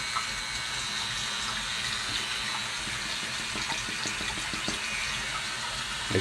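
Tap water runs steadily over a cordless nose and ear hair trimmer, a continuous close splashing hiss with small spatter and gurgle, and no voices.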